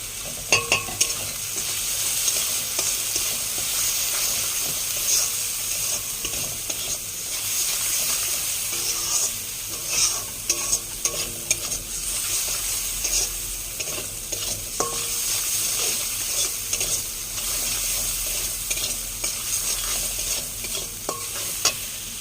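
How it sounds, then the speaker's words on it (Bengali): Soya chunks fried with masala in a pan, a continuous steady sizzle with scraping stirring strokes running throughout, close and alone with no talk. "মশলাটা ভাজা ভাজা হয়েছে"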